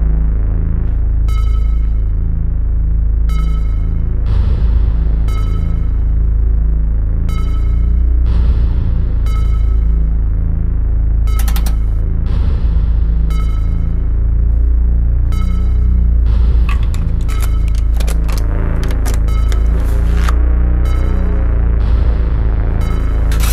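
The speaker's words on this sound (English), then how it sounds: "synthesizer that sequences and plays all the sounds from the lowest kick drums to the highest notes" A modular synthesizer plays a sequenced pattern, deep throbbing low pulses under repeating bright tonal blips that come in regular bursts, loud and continuous throughout with no talking.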